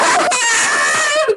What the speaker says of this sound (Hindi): चीखों की आवाजें आती थी